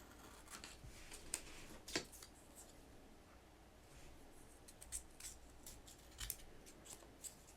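Scissors snip out a small piece of brown fabric scrap, giving a series of close, quiet, crisp cuts in an irregular rhythm.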